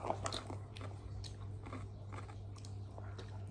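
A young girl chews and bites through breakfast rice up close, with soft, repeated crunchy mouth sounds and no talking.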